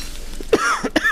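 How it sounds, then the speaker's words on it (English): A couple of sharp, raspy coughs close to the mic, with a throaty clearing between them and nothing else going on. "Oh, sorry about the cough"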